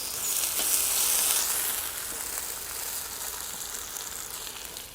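Meat sizzles in a pot with carrots while cooking kulish, a Cossack millet porridge, as it is stirred: a steady frying hiss, louder at first and then settling softer.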